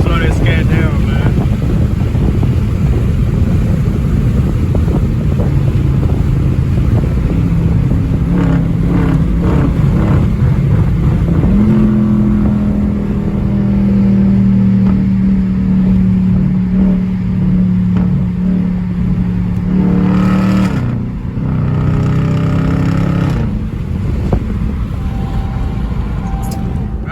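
A Dodge Charger Scat Pack cruising in traffic, its engine a deep rumbling drone with a sustained low tone and a rising rev near the end, mixed with wind noise and someone talking over it.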